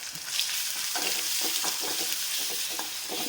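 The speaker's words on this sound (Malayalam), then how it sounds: "ഇതിലേക്ക് ഇനി ഉണക്കമുളക് പൊടിച്ചതും ചെറിയ ഉള്ളിയും ഉണക്കമുളകും കൂടി പൊടിച്ചത് ഇട്ട് മൂപ്പിച്ചെടുക്കുക" Crushed dried chillies and shallots roast in hot oil with a steady, close sizzle, broken by light scraping taps as they are stirred around the pan.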